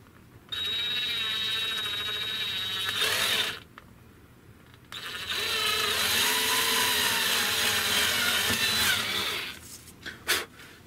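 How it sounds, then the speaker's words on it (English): A power drill whines steadily through a hole in an RC model autogyro part, stops briefly, then runs again at a high pitch before winding down, close and loud. "we're going to drill that hole"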